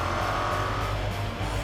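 Race cars speed in a video game race from Enigmas of The Magnificent Mr. Bacon, giving a loud, continuous engine drone with a steady pitch and no talking.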